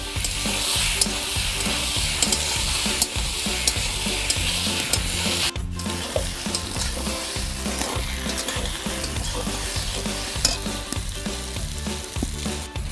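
Boiled pasta being stirred and fried in a pan with onion, chili and tomato, a close, busy sizzle with repeated scraping stirs and a rhythmic tonal layer running underneath.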